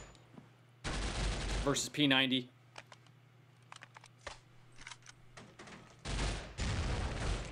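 Gunfire in the mobile esports game Critical Ops, two bursts of rapid automatic shots at the start and end with scattered single shots between, under a commentator's voice.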